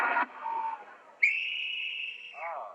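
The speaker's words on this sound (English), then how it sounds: "There's the whistle" A referee-style whistle blows on a 1964 NBC daytime game show, Match Game, sounding one long, loud, steady blast after a brief burst of studio noise, then fading into chatter.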